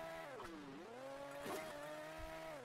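A small vehicle in the mobile racing game Hill Climb Racing 2 revs with a steady buzzing engine tone that dips and climbs in pitch, with brief clicks and bumps. It plays quietly on its own.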